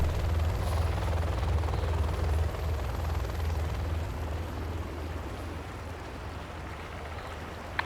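Helicopter rotors from the video game Command & Conquer Generals Zero Hour, a steady loud low throbbing drone with a constant hum, holding level throughout with no talk.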